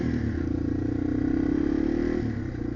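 A Yamaha TW200 motorcycle ridden on local Utah streets, its single-cylinder engine putting out a steady close throbbing drone that holds and then drops slightly as the throttle eases near the end.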